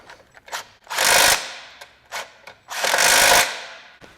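Power tool tightening bolts while installing an HRG Offroad 4-inch lift kit on a 1997-2001 Honda CR-V, two long loud whirring bursts with short blips between them, close up and alone.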